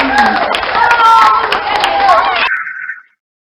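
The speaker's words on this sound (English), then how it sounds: "everyone clap loudly." Children clap loudly together in a dense, steady burst that keeps going and then cuts off abruptly, leaving a faint short tone at the end.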